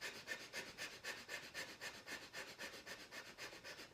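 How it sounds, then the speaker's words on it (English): Rapid, rhythmic breath of fire from Kundalini yoga: quick, even, forceful breaths through the nose at about four per second, close but faint, with no talking. "the difference between long, deep breath and the breath of fire is that now you're going to do this fast"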